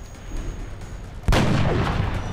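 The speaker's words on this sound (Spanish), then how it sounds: "Disparo a la cabeza para no arriesgarnos contra este tío y que se muera." A single sharp, booming gunshot from the video game XCOM: Enemy Within, a headshot fired after a low ambient hum, followed by a lingering rumbling tail, with no voices.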